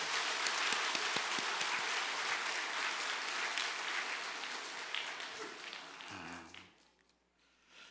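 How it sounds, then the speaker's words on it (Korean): Church congregation clapping during a Christmas Sunday service, a broad sustained patter of many hands at moderate volume that fades out near the end, leaving quiet. "우리 주일학교 친구들을 위해서 박수 한번 보내드릴까요?"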